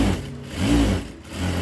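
Sewing machine stitching the lining of a blouse, a steady close motor whir that rises and falls slightly as it runs without pause.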